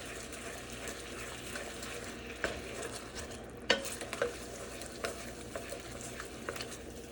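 A spoon stirs thickening lemon chicken sauce in a pan over a low sizzle, with soft scrapes and a few sharper clinks of the spoon against the pan, quiet and close, no talking.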